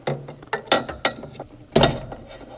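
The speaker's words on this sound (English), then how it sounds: "I'm going to pull this cotter pin out so I can take this push rod off of the brake pedal." A cotter pin is worked out of a brake pedal push rod during a Wilwood dual bowl master cylinder install, giving a series of sharp, close metallic clicks and scrapes at irregular intervals, with a louder rattle near the end.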